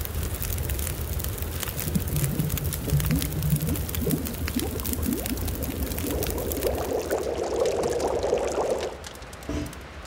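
Water poured in the survival video game The Long Dark, a steady, continuous splashing pour lasting several seconds that rises toward the end, then stops abruptly.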